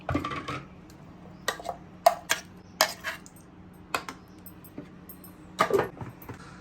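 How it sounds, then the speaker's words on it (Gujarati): Coconut chutney is spooned into a serving bowl, giving a series of light clinks and taps of utensil on dishware, spaced and close, in an otherwise quiet kitchen. "હવે એને પણ એક સર્વિંગ બાઉલમાં કાઢીએ."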